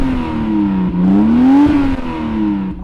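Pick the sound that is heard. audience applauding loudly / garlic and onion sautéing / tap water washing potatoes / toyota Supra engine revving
toyota Supra engine revving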